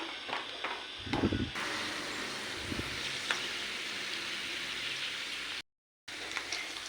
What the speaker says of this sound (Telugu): నెయ్యిలో డ్రై ఫ్రూట్స్ అయితే మనం దూరగా మంచి కలర్ వచ్చేంత వరకు ఫ్రై చేసుకోవాలండి